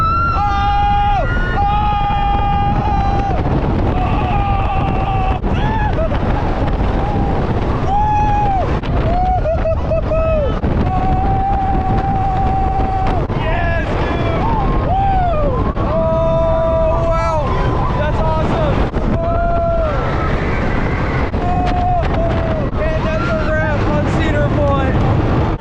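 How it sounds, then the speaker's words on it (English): Riders on the Millennium Force roller coaster at Cedar Point in Sandusky, Ohio, scream and wail repeatedly over a constant loud roar of rushing wind for the whole ride. "we came back around to Millennium Forest for one last ride before the end of our day."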